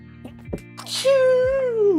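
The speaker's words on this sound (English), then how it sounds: "I need to sneeze." A single sneeze breaks into a calm home setting, with a sharp inhaled build-up and then a loud, close burst that trails off, over a low steady background hum.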